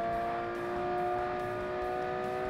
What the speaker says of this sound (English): the whining you can hear is the transmission